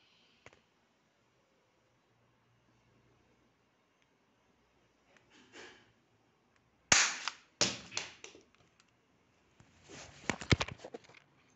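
A toy gun being cocked and fired: a faint click near the start, a soft rustle, then a sharp, close snapping shot followed by several quick clacks, and a burst of rapid clicks and snaps near the end.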